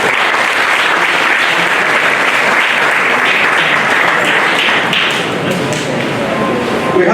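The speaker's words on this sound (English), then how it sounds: "A round of applause for him" A crowd at a medical graduates' induction and oath-taking ceremony claps loudly and continuously, a full, sustained round of applause with a faint voice underneath.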